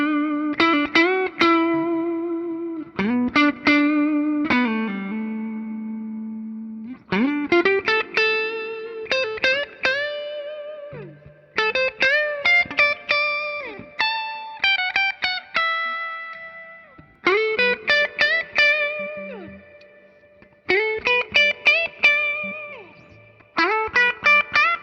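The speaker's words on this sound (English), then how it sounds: "if you pick softer, yeah, you can get it into clean territory" A 2018 Gibson Les Paul Custom electric guitar picked lightly in a fairly clean tone, ringing chords and single notes in separated phrases with soft effects shimmer, no voices.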